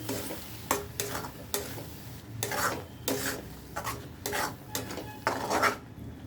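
A spoon repeatedly scrapes and stirs through mashed taro with salt, cumin and coriander powder in a pan, giving a series of close, rasping strokes at an uneven rhythm, heard alone with no talk.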